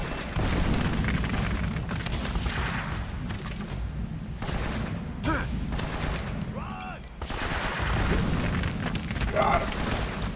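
A grenade blast in the action game Uncharted, a loud boom within dense continuous gunfire and explosive noise, with a voice speaking over the combat.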